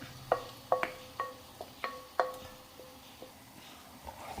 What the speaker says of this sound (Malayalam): ഇതൊന്ന് മിക്സ് ചെയ്യാം. ഹൈ ഫ്ലെയിമിൽ തന്നെ ഒരു 5 മിനിറ്റോളം ഇത് ഇളക്കിക്കൊണ്ടിരിക്കണം.